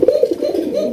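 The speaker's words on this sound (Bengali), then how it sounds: "ঝুটিওয়ালা লাল কালারের রাজগোল্লা কবুতর" Crested red Rajgolla pigeons on a farm coo close by, a quick series of throaty pulses flowing into a sustained low rolling murmur.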